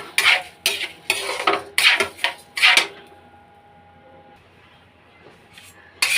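A utensil scrapes and clatters against a dry pan in several quick bursts of stirring, then the kitchen goes quiet before one more clink.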